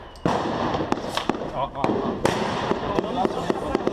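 Gunshots in the Rocinha favela in Rio de Janeiro: sharp cracking shots pop repeatedly at irregular intervals, some distant and echoing, over a background of people talking.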